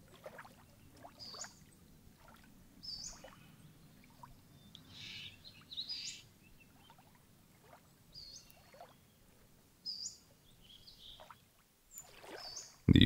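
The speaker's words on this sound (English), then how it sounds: "The orchestra of the birds twittering is all this beauty expressed in sound." Scattered forest bird chirps and short twitters ring out at intervals over a quiet, soft outdoor background, some close and some more distant.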